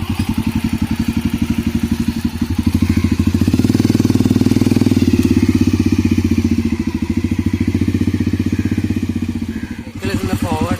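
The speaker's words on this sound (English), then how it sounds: "We should shift the gear to first gear for the backward motion of the motorcycle." A motorcycle engine idles with a steady rumbling throb while the gear is shifted for the reverse gear mechanism, rising slightly in the middle, with a brief clunk near the end.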